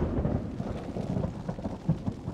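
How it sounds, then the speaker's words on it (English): A thunderstorm with low rolling thunder and steady rain, heavy and continuous throughout with rumbling swells, no voices. "Lightning and thunder were definitely acts of God"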